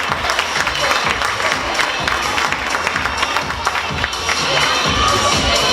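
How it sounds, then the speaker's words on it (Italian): Loud, dense applause and cheering from an audience at a fashion show in Taglio di Po, 2016, with continuous clapping and shouts running steadily throughout. "Complimenti ad Arianna, anche a lei l'applauso meritato di questo pubblico."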